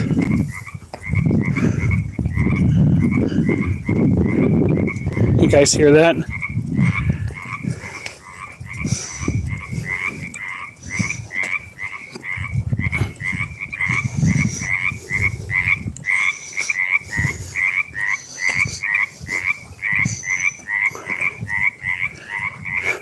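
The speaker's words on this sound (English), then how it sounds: "What a robust croak." A frog gives a robust, loud croak again and again in a quick regular rhythm close by, with people talking briefly over the early part.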